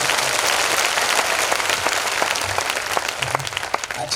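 An audience at a Christmas festival gathering claps loudly and continuously, a dense wash of applause that stays full for the whole stretch with no voices over it.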